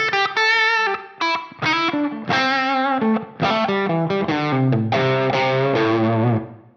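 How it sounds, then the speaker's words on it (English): A distorted electric guitar runs through a Line 6 Helix room reverb, playing a lively phrase of picked notes and chords. The tone sounds fairly dry and boxy, like an amp in an ordinary room, steady and close with no voice. "So we have a room reverb, very different effect than the plate, right?"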